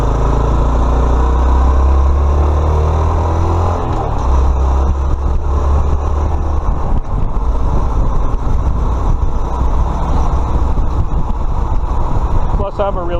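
A small Honda Trail 125 motorcycle sitting at a red light, its engine holding a low steady idle close by under broad ambient traffic noise, with a slight change in tone around the middle.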